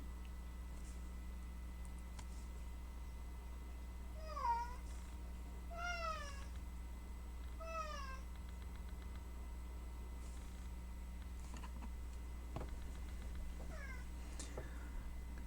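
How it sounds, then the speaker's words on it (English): A house cat named Remy meows several times in short, rising-and-falling calls, spaced a second or two apart and then again near the end, fairly faint against a steady low background hum. "cat Remy also likes to shout constantly"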